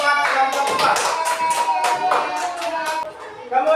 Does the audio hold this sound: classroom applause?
yes